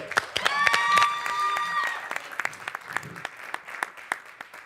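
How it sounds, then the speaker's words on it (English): A crowd at a 2021 Gila Idol preliminary singing contest applauds and cheers loudly after a performer's song, a steady wash of clapping with whoops that tapers off into scattered claps, with voices briefly heard early on. "That was the loudest crowd so far tonight."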